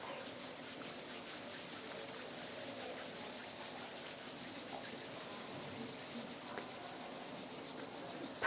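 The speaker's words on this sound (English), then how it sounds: "And rub the palms gently against each other." Palms of the hands rub gently together during a guided practice, a soft, continuous dry friction hiss that stays faint and even, with no speech over it.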